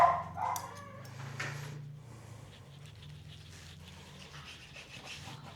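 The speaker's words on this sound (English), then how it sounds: "as you can tell, the dogs are going crazy." Dogs barking and panting excitedly near a turkey being carved, a few sharp barks early then quieter rustling and rubbing sounds close by.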